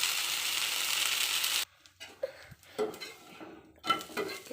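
A rava and avalakki dosa sizzles loudly on a hot pan after oil is poured on, then the hiss cuts off and is followed by quieter scraping and metallic clinks of a spatula against the pan.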